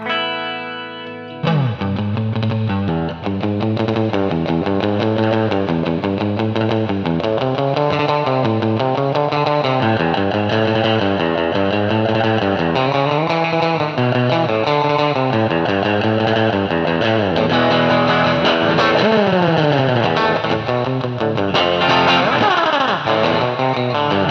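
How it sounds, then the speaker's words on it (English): Electric guitar through a Quilter amp and Frontliner 2x8 cabinet, playing a steady melodic line drenched in heavy, splashy surf-style reverb, continuous and loud throughout. "It also gets kind of surfy there too when you start really piling in the reverb."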